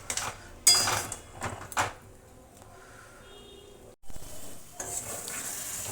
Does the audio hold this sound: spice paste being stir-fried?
yes